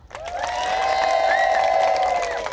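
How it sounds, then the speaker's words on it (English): Live crowd at Epcot, Walt Disney World, cheering and clapping for a food and wine show, a sustained swell of voices with whoops and scattered applause, loud and close before tapering off. "Let's clap it up"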